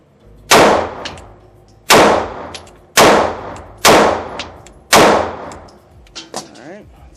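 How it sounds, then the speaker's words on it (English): An MC9 pistol fires five loud, sharp shots, evenly spaced about a second apart, each followed by a ringing decay, with faint movement noise after the last shot. "let's go back to the MC9. Again, 5 shots."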